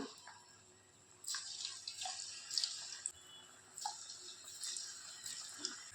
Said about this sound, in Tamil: இப்போ ஒரு ஒரு உருண்டைகளாக சேர்த்துக்கலாம்